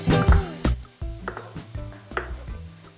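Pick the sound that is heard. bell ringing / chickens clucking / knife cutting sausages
knife cutting sausages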